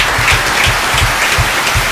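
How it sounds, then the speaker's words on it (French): An audience at a Collège Notre Dame du Bon Conseil school award event gives loud, steady applause that fills the room throughout. "On peut aussi acclamer fortement"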